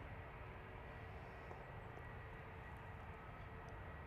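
Steady broadband roar of a Lufthansa jet airliner at Manchester Airport, a continuous engine rumble filling the whole stretch without breaks, moderately distant.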